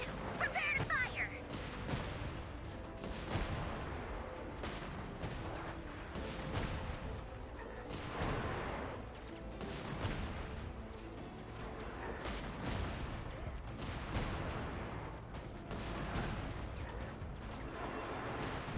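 Cannon fire in the video game Genshin Impact comes as repeated heavy booms within a dense, continuous wash of battle noise, with voices faintly present underneath.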